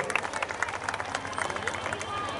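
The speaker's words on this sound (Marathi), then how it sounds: "टाळ्या वाजवायच्या आहेत" Audience applause at a community Home Minister event, a dense patter of many hands clapping close by, steady and lively throughout with crowd murmur underneath.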